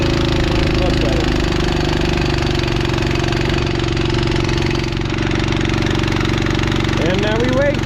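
An engine runs steadily at a loud, constant idle on a farm while a tank is filled with fertilizer, a rough mid-pitched rumble throughout with a brief squeal near the end.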